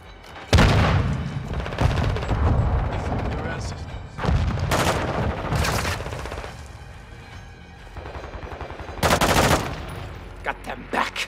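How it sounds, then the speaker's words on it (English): Gunfire in a Call of Duty match: several loud bursts of automatic weapon fire and heavy booms, separated by quieter gaps, with a brief rapid rattle near the end, while a voice can also be heard at times. "I'm taking enemy fire."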